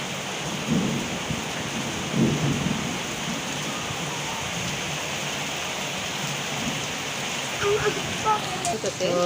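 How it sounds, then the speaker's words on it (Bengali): Heavy rain pours steadily outside a house in Shariatpur, Bangladesh, a dense continuous hiss with low rumbles that suggest distant thunder, and faint voices in the background. "বৃষ্টির শব্দ"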